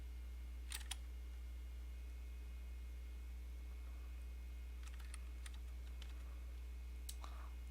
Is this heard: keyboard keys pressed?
yes